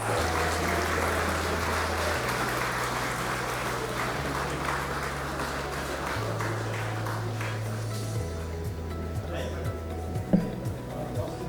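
Audience applause at a banking technology conference and awards ceremony in India greets the chief guest, a Reserve Bank deputy governor; steady clapping fills the hall throughout, with a low musical drone underneath.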